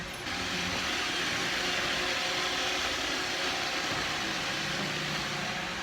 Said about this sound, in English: If you're wondering what that buzzing sound is in the background, it's their little Roomba vacuum.